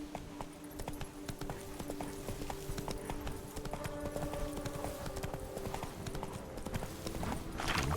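Steady clip-clop of Roach's hooves as the horse trots along in The Witcher 3: Blood and Wine, an even rhythmic patter over a low ambient bed, with no voices.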